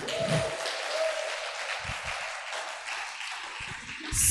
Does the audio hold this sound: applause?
yes